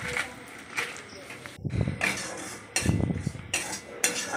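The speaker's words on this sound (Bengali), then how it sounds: "সুজিটা ঘিয়ে ভালো করে ভেজে নিতে হবে।" Semolina fries in ghee while a metal spoon scrapes and clinks against the pan in irregular bursts, the stirring knocks loud and close over a soft background hiss.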